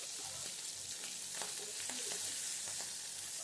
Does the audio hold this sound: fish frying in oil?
yes